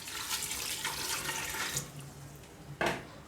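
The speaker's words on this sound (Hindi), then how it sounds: "तो ये तकरीबन 3 कप पानी मैं इसके अंदर ऐड कर रहा हूँ" About three cups of water poured into a cooking pot while preparing chicken karahi, a steady close splashing stream that ends with a brief louder splash.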